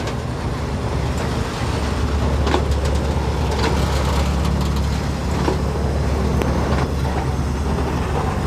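A heavy freight train rumbles past at close range, a loud continuous roar with rattling wagons and clanks that holds steady throughout.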